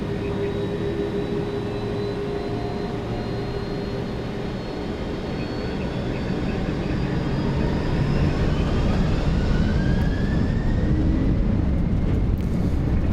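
Jet engines on a Lufthansa Cargo MD-11F roar at takeoff thrust on the Frankfurt runway, a loud, steady broadband rush that builds in intensity, with a rising whine audible in the cockpit.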